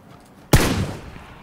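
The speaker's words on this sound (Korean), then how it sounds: "어, 총소리. 제가 썼어요." A single gunshot in the video game PUBG Battlegrounds: one sharp, loud report that breaks a quiet background and trails off in a short decaying tail, with no talking.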